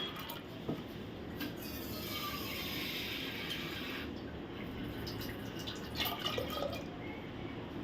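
Water poured into a pressure cooker holding washed chana dal, a steady close rushing pour with a few trickles and drips running through the whole stretch, no talk.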